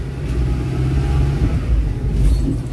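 Suzuki APV automatic car accelerating, a low steady engine rumble heard from inside the cabin, building slightly in intensity across a few seconds without speech.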